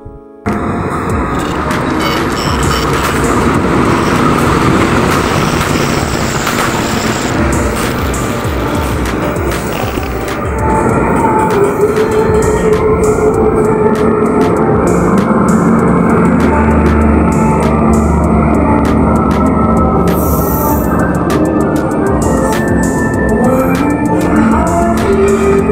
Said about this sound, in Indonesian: Sebentar lagi keretanya masuk stasiun Kroya.